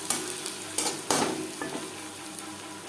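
Onions frying in a pan for a fish-roe chochori, with garlic about to go in. Soft, continuous sizzling fills the background at a low level, broken by a few scraping stirs near the start.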